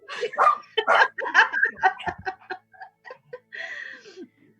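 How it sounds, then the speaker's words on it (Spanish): Small dogs yap and bark in quick, irregular bursts indoors at home, loud and close, with a few short pauses between the barks. "Estos perritos que me hacen pasar vergüenza."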